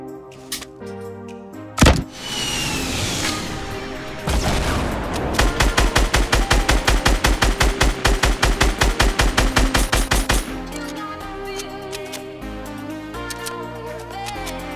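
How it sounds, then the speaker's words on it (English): SCAR assault rifle fire in the Fortnite video game: a single loud shot, then a rapid burst of evenly spaced shots lasting several seconds, over background game sounds and music. "I'm gonna shoot him with the scar."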